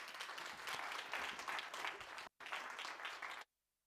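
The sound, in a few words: audience applause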